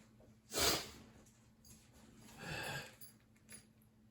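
A dog gives a sharp snort, then a longer rough sniffing exhale and a small final snuffle, close up in a quiet room.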